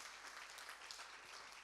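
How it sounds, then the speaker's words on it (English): Conference audience clapping together in a hall, steady faint applause throughout with no talk. "So I think that we can applaud again Georgios, Evi, and Dimitrios"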